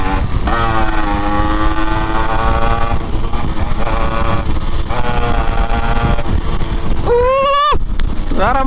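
A vintage Yamaha RX135 motorcycle runs loud and close, its engine and exhaust held at steady revs, then revved sharply upward near the end.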